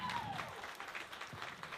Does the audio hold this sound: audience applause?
yes